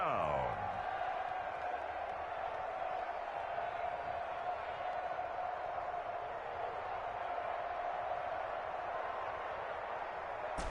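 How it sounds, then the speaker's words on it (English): A stadium crowd at an NFL playoff game raises a steady, dense roar of cheering that holds at an even level throughout. "The crowd getting into it as we come up on a big 3rd down"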